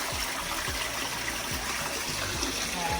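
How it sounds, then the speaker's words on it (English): A newly installed toilet in a temporary guest bathroom under construction in Zambia flushes, giving a steady rushing gush of water that runs through the whole stretch, close by and moderately loud, with no talking. "Everything flushes real good."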